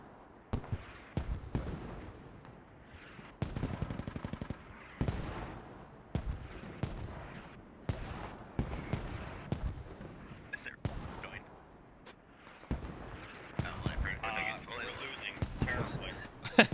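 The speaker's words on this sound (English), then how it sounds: "It's non-stop mortars." Mortar rounds land nonstop in the military shooter game Squad, a rapid series of heavy booming blasts and sharp cracks at irregular intervals, with voices talking over the barrage.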